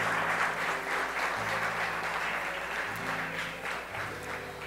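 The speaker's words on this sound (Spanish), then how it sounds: "dale un aplauso a Dios si Él te habló esta noche" Church congregation applauding together during an evening service, a steady, dense wash of clapping that fills the whole stretch at moderate level with faint voices underneath.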